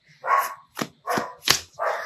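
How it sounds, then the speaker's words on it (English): A neighbor's dog barks five times in a steady run of loud, close, separate woofs, with no talk over them. "I'm so sorry about the dog barking."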